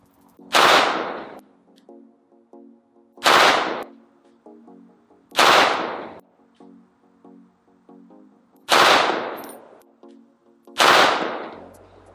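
Five loud, sharp gunshots from an Arex Rex Zero 1 pistol fitted with an RMR sight, fired outdoors at spaced intervals of roughly two to three seconds, each crack followed by a short ringing decay.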